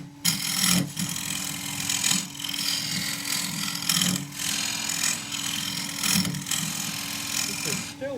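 A 3/4 inch square-end tool cuts oak on a spinning lathe, giving a continuous rough scraping, rasping drone under a steady motor hum, with rhythmic swells as the tool bounces against the wood.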